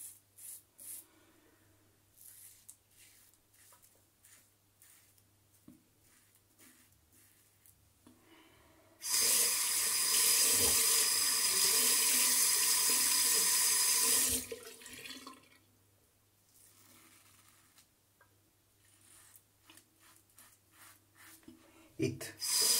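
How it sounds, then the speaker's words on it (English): Tap water runs loudly into a sink for several seconds while a Polysilver Super Iridium razor blade is rinsed during a shave, framed by quieter scraping and handling sounds before and after. "Regular rinsing."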